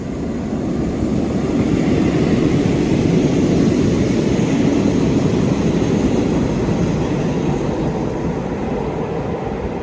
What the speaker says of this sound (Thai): เสียงรถไฟกำลังลอดอุโมงค์เนี่ย ดังกังวาน ออกมาด้านนอกเลยนะคะ